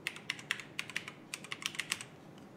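Keystrokes on a Mac keyboard while entering a password in Terminal, a quick uneven run of light, crisp clicks close up, with no voices.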